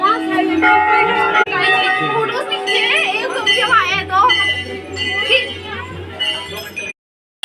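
Many bells ring unevenly, metallic and bright, at a crowded Hindu temple in Uttarakhand where worshippers tie bells of all sizes, over a steady hum of chatter and children's voices before a sudden cutoff.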